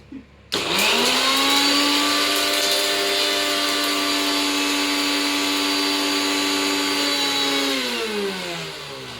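A mixer grinder starts abruptly and runs at a loud, steady high-pitched whine for several seconds before slowing slightly near the end.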